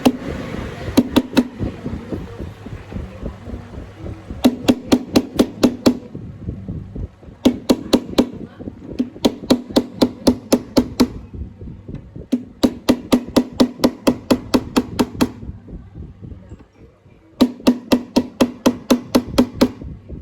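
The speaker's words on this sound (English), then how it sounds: "I install the frets into the fretboard" Repeated bursts of sharp hammer taps as frets are seated into a guitar fretboard during a refret, each burst a quick run of close, loud strikes separated by brief pauses.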